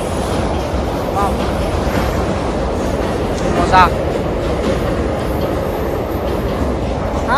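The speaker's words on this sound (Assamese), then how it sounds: "চাওক ট্ৰেইন যাই আছে ওপৰেৰে আৰু আমি তলত" A train rumbles across a bridge directly overhead, a loud, continuous roar with rail clatter and a brief squeal, while people underneath talk over it.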